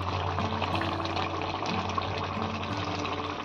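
A little water is poured into a cooking pot of sukhua besara, dried fish in mustard sauce, in a village kitchen, making a steady, continuous trickling wash that lasts a few seconds at close range.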